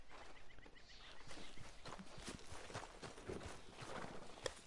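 Horse hooves walking in Red Dead Redemption 2, a steady clip-clop of footfalls at a relaxed pace, faint and fairly distant over a soft outdoor ambience.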